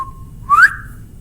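A person whistles a short imitation of a bobwhite bird call: a steady held note followed by a quick rising sweep, heard alone and fairly close.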